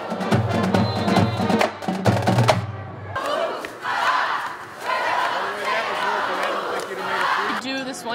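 A high school student section at a Saginaw Heritage fan event shouts a rhythmic chant in unison, with loud pulsing beats at the start, then a roaring crowd of voices rising and falling in waves.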